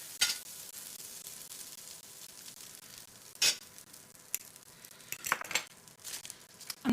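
Butter frying in a hot pan while making fluffy Japanese soufflé pancakes, a steady soft sizzle broken by a few sharp clinks of utensils and pan, with no talk.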